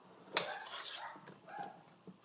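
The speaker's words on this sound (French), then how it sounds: "mes chiens sont vraiment tannants dehors" Dogs barking outdoors, heard faintly from inside a kitchen, with a sharp bark followed by a few softer yips and whines spread over two seconds.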